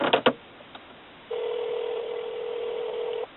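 An LG Marquee phone places a call: a couple of brief clicks and tones, a short pause, then a steady outgoing calling tone holds for about two seconds before cutting off, thin and phone-like, with no talk.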